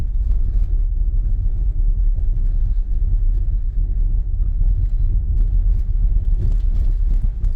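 Tesla Model Y driving on a snowy Colorado road: a steady, close, low rumble of tyres and road noise fills the clip throughout, with no talk.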